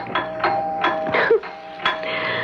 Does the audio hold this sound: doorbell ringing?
yes